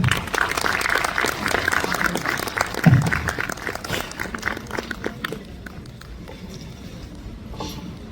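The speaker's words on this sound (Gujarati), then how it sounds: "જોરદાર તાળીઓ." An audience at a poetry event organized by a youth association in Prantij applauds, with dense, lively clapping that swells early, then thins and fades toward the end, fairly near and without speech.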